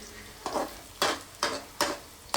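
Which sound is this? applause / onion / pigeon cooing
onion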